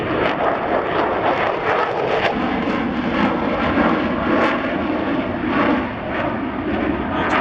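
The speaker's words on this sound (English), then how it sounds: "Air Force version, which is what we see here, able to operate from conventional runways and yet stealthy" Stealth fighter jet, the Air Force conventional-runway version, roaring overhead at an air show, a loud continuous engine rumble and rush that holds steady, with faint wind buffeting.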